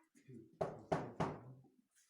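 Three loud, evenly spaced knocks ring out inside an abandoned farmhouse, each a sharp hit with a short decay, under low voices murmuring in the room.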